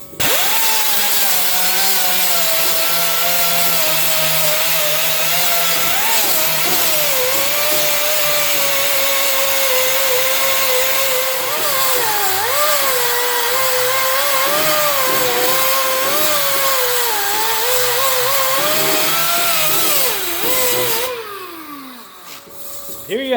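An angle grinder works steadily on a rusty car trunk floor pan, a loud continuous high whine with pitch wavering as it bites into the metal, then winding down near the end.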